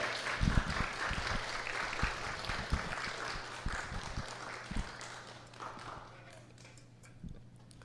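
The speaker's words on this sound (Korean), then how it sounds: "나가실 때 큰 박수로 환송해 주시면 감사하겠습니다" Applause from a church congregation, dense clapping that is loudest at the start and gradually thins and fades, with a steady low hum underneath.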